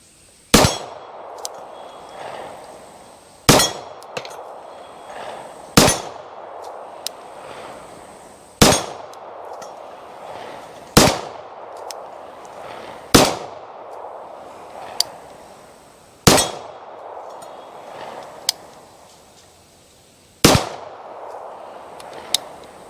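IMI Jericho 941F pistol firing NATO rounds at steel targets: a slow series of about nine sharp, loud reports, each followed by a ringing metallic clang, spaced a couple of seconds apart.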